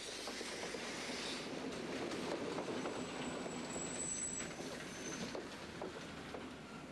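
A steam train rumbles steadily past with a continuous clattering roar and rhythmic wheel noise, with a faint high squeal partway through.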